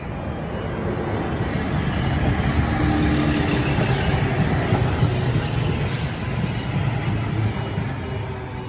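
A train passes through Menangle station with a steady rumble and clatter of wheels on rails, loud and close, with faint wheel squeals and no talk.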